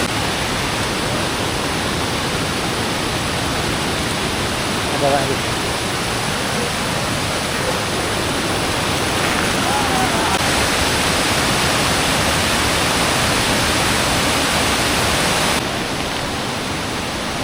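The village river at Daryacha Dhav near Murud rushes with a continuous broadband hiss of flowing water, steady throughout, with a few brief spoken words faint underneath.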